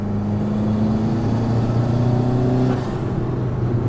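A turbocharged car engine under boost droning steadily from inside the cabin, pitch climbing slightly as it pulls, then easing off near the end; the car has an exhaust leak.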